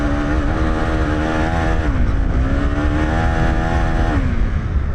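A KTM 390 Enduro R motorcycle ridden through sand, its single-cylinder engine buzzing loud and close without a break, pitch rising and falling as the throttle shifts.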